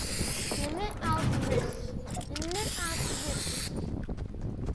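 Gas can spraying in Fortnite at a player-built gas station, a steady hissing spray running through most of the stretch with brief gaps, while several players talk and shout over it.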